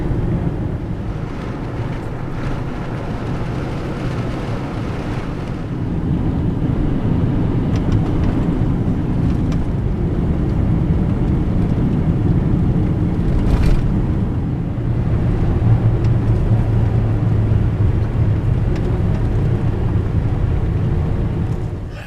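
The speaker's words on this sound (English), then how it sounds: "And now I'm driving through Grand Staircase-Escalante National Monument again." An SUV driving a road through Grand Staircase-Escalante National Monument in Utah, heard inside as a continuous low rumble of engine and tires with wind buffeting, steady and loud throughout.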